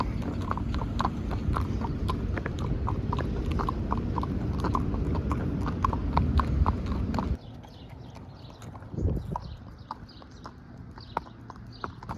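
Horse hooves clip-clop in a steady rhythm while riding past a middle school in Bandera, Texas, fairly close and loud, then quieter as the surroundings change partway through.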